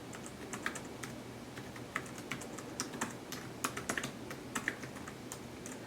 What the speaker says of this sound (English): And now I'll type.